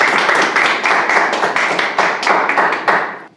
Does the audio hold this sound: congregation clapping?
yes